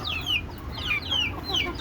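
Native country chickens kept in a small home flock cluck nearby, several quick repeated calls with a few drawn-out squawking notes over soft background noise.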